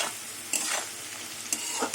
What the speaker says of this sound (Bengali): আলু পেঁয়াজ ভাজা হয়ে আসছে